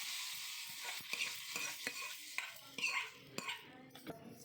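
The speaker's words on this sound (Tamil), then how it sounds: "இது நம்ம மத்து போட்டு ஒரு கடையணும்." Cooked drumstick leaves (murungai keerai) churned with a wooden mathu in a pot, giving close, repeated soft wet squelching and scraping strokes with light knocks against the vessel, no talking.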